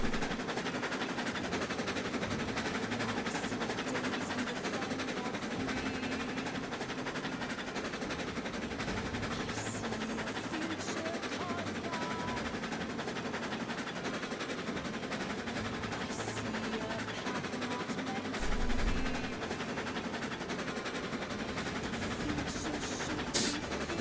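A coal-fired steam locomotive running on a railroad on a morning run, heard as a steady, loud, dense rumble and hiss that holds throughout, with a brief heavier low thump near the end.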